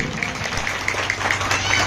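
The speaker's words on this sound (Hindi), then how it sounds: "अरे बाप प्रभु यीशु मसीह जी के लिए ताली बजाएंगे जोर से" Congregation members at a church Independence Day celebration clap briskly, a busy patter of hands heard under someone speaking loudly over them.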